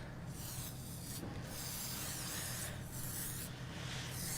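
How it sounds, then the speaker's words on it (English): Light-shine spray wax misted onto freshly cut short layered bob hair in a salon, a steady close hiss running continuously with brief fluctuations, no talking. "It's like a spray wax. It's a light shine spray."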